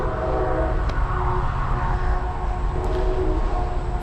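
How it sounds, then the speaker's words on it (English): Trains passing nearby make a loud, steady rumble with rolling rail noise that holds for the whole stretch, a faint high whistle-like tone above it, and no talking. "fucking trains, man"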